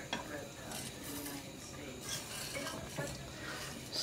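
A spoon scrapes and clinks against a pot while flour mixture is stirred in, soft repeated rhythmic strokes close by with light metallic taps and no voice.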